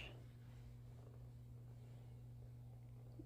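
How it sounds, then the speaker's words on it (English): A soft, steady cat purr, low and continuous, close by and quiet. "With a loud purr."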